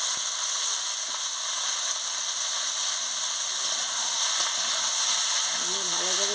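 Ridge gourd, cucumber and potato frying in a pan as they are stirred, giving a steady close hiss and sizzle throughout, with a faint voice briefly near the end.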